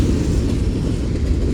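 A Union Pacific mixed freight train rolls past at Central Avenue, a close, steady low rumble of wheels and cars with no horn sounding in this stretch.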